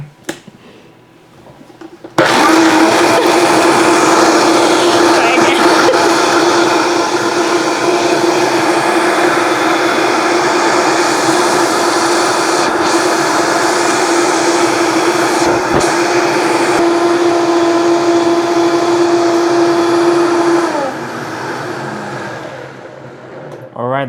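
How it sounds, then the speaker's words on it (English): A kitchen blender whirs through a vegan cheese mixture. Its loud, steady motor hum starts abruptly, runs evenly for about twenty seconds, then drops and winds down. "So we're gonna turn on the blender."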